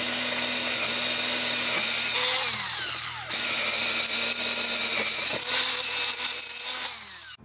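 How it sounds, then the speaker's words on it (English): A power drill with a 3/8 bit whines at high pitch as it bores a cable hole, running steadily with brief pauses and pitch shifts, then winding down at the end. "And drill that through."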